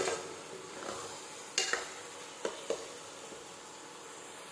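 Coriander powder is stir-roasted in a pan, giving a faint, soft dry sizzle. Several sharp scrapes and clicks of a spoon against the pan break through at intervals.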